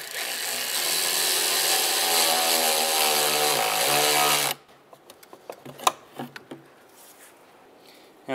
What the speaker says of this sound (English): And now we'll tighten down the band clamp.